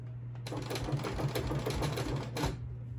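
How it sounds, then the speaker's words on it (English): Sewing machine stitching along the edge of a fabric drink coaster, a steady rapid mechanical whir and clatter with a low hum, starting after a brief pause and running continuously near and clear. "just going to sew right along the edge"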